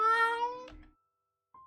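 A cat meows once in a video game, a clear, harmonic, falling meow lasting over half a second, then a short soft thump and quiet, with a faint tone entering near the end.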